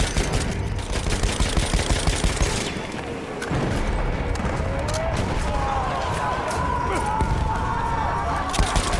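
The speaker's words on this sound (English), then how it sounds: "Machine gun, hostile!" Sustained machine gun fire in Battlefield 1 during the Gallipoli invasion, loud continuous rattling bursts with booms mixed in and a brief dip near the middle, with battlefield shouts faintly over it.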